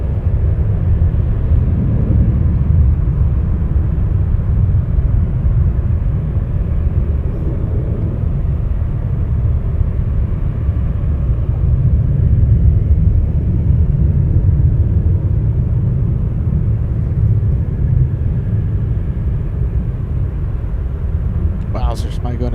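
F-22 fighter jets passing over Anchorage make a loud, continuous low roar that holds steady for the whole stretch, with a voice heard faintly over the noise.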